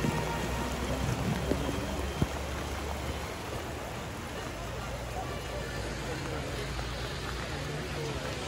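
Steady rain falls in a continuous even hiss at a Christmas lights display in Clifton, Ohio, with a low traffic rumble underneath and a brief knock partway through.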